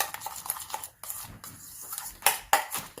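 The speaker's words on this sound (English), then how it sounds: "stir that in" A utensil scrapes and clinks in a bowl while rosemary garlic seasoning is stirred into chicken wings, a series of short irregular strokes, close and fairly loud.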